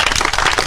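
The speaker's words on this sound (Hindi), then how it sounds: "ताली बजाइए आप लोग।" Audience clapping together on request at a public event with a chief minister, a dense continuous patter of hands close by for a short burst, with no talk over it.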